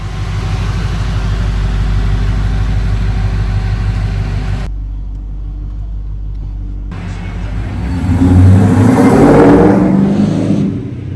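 An LS-swapped 1986 Monte Carlo SS rumbles steadily at low speed on a night drive, the deep engine drone dropping briefly before a louder rev swells near the end, close and prominent with no talk.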